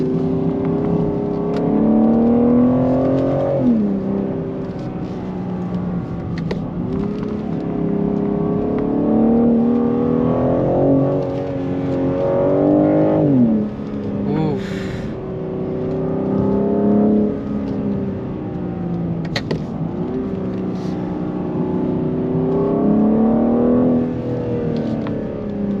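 A BMW M car engine climbing Mt Faber with stability control on, steady revving that rises and falls through gear changes over about twenty-five seconds, close and sustained with brief drops between shifts.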